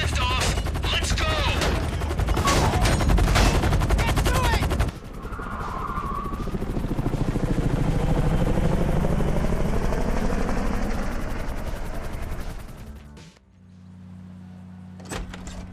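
A getaway helicopter lifts off in GTA V after a Fleeca bank heist, its loud rotor roar building under sharp, rapid bursts that sound like gunfire, then settling into a steady drone that fades to a low hum at the end.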